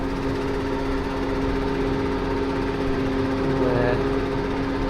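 A T7 340 tractor engine runs with an even, droning hum that holds at a constant pitch and level the whole time, close by and heard alone.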